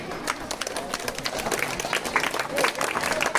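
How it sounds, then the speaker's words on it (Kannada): An audience at a horticulture work camp in Madderi village claps in a dense, uneven patter of many hands that keeps going throughout, near and fairly loud. "ಚಪ್ಪಾಳೆ ಹೊಡೆದು"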